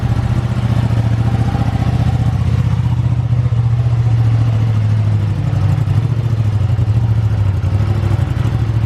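A Ducati Panigale V2 motorcycle pulls away, its steady mid-pitched engine drone holding at a constant loud level for the full stretch and shifting pitch slightly near the end, with no voices.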